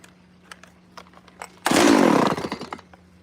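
A chainsaw roars to life partway through, cutting into wood while carving a dragon sculpture; loud and close, sustained for over a second before tapering off, preceded by quiet knocks and handling.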